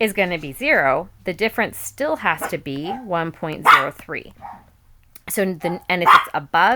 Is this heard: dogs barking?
yes